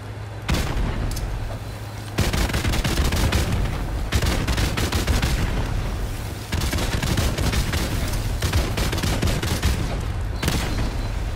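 Game combat in Call of Duty: Modern Warfare Remastered, with heavy booming blasts and dense bursts of rapid gunfire crackling continuously, loud and close, with a few brief lulls between volleys.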